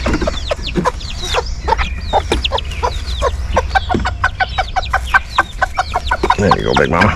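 Backyard chickens, including a mother hen with her young, cluck and chirp in a steady busy chatter close by, with a low hum running underneath.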